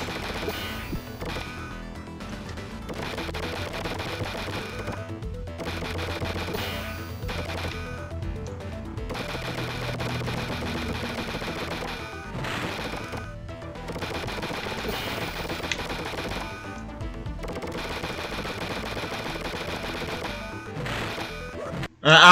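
Anvils fired in the Earthworm Jim Genesis video game make rapid, repetitive impacts and clanks over a busy game soundtrack, continuing steadily with brief gaps, then a sharp loud burst at the very end.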